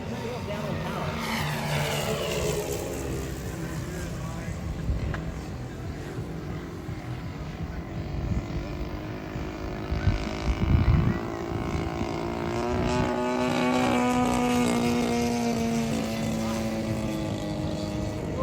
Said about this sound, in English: We got emergency landing. He got a problem. Got an engine trouble. B17 landing.